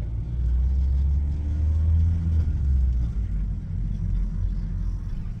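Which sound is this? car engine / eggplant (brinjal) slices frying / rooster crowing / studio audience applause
car engine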